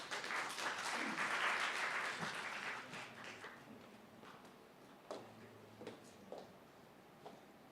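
A lecture audience applauds to welcome a professor, a dense round of clapping that fades after about three seconds into a few scattered claps and small knocks.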